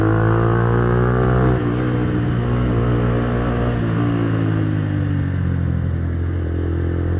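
A 2010 Minerva R150 VX motorcycle engine runs loud and close, its steady idle rising into revs and then settling back into a continuous harmonic drone for the whole stretch.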